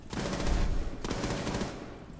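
Rapid automatic gunfire in Rainbow Six Siege, a dense burst of shots that runs about a second, breaks briefly, then resumes and fades out, loud and close with no talking.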